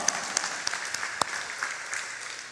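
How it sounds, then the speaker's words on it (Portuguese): Audience applause at a Brazilian entrepreneurs' event, a steady wash of many hands clapping at moderate distance, fairly soft, with a few sharper individual claps standing out. "dê uma salva de palmas, porque foi muito bom"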